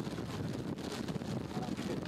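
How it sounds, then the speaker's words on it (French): Wind buffets the microphone at an outdoor football training session, a steady low rumble and broadband rush lasting throughout at moderate level, with no clear speech. "encore du vent"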